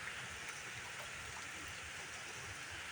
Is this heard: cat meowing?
no